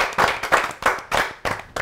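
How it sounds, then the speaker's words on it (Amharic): An audience at a comedy show claps in quick, close bursts of applause, five or six strong pulses in under two seconds, loud and near with no talk over it. "አጨብጭቡልኝ ለሷ።"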